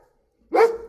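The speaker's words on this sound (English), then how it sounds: "Hopefully Shiva won't bark and hurt your ears." A single sharp bark from a dog near a water feature being power washed outdoors, loud and close after a moment of near silence.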